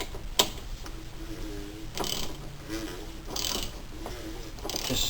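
A ratchet wrench clicks in short bursts while tightening the oil filter housing cap on a BMW E46 or E39, the close pawl ratcheting repeating at intervals over faint background noise.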